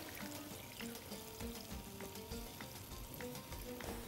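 Meat broth poured into a pot of taro and meat, giving a steady close sizzle and bubbling with faint liquid splashes, with no talking.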